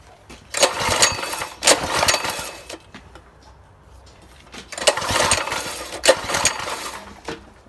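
A Predator 6.5 hp small engine runs roughly and unevenly, surging loud in bursts and sagging between them, close by and with no talking.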